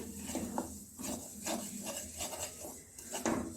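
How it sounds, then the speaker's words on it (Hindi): Coarsely ground coriander roasts in a pan for panjiri prasad while a spoon keeps stirring it, giving steady close scraping and rubbing with soft grainy rasps throughout; no one speaks. "इसे भी बराबर चलाते रहना है अच्छे से, ताकि ये जले नहीं"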